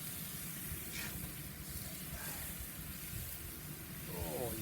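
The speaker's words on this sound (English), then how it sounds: "Oh, you can hear that sizzle, can't you? That means our stone is nice and hot." Skinless cod fillet laid on a hot soapstone on a Kamado Joe Big Joe 3 grill, giving a soft continuous hiss of sizzling that stays fairly quiet and even throughout.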